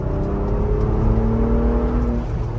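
A Ford Bronco Raptor engine revs at about 2,500 RPM in fourth gear, a loud, steady, rising drone heard from inside the vehicle over its full length, no voices.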